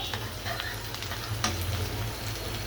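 Whole cardamom, cinnamon, bay leaves and cloves frying with crisp fried onions in hot oil, a steady dense sizzle with light stirring scrapes throughout, close and continuous.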